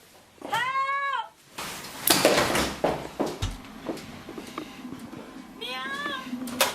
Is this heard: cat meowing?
yes